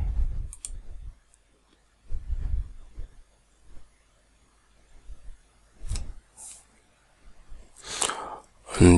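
Computer mouse clicks during an IT fundamentals network-setup walkthrough, a few sparse, faint, sharp clicks separated by quiet gaps, with soft breathy noises between them.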